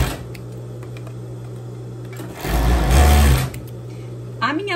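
A sewing machine stitches closed the sleeves of a long dress with short sleeves and an elasticated waist, running as a steady motor hum that rises louder for a sustained burst of stitching before easing back.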